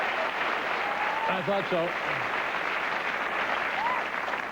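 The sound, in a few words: studio audience applauding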